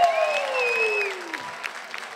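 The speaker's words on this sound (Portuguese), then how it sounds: "Receba uma salva de palmas, Nego Drama" Crowd applause at a Brazilian rap battle, a sustained roar of clapping with a loud descending whistle-like tone sweeping down across it before the clapping thins out.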